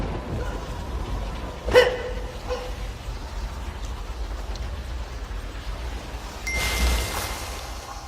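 A sharp bark-like burst from a dog creature in Blade and Soul, then a louder rushing snarl a few seconds later, over a low ambient hum.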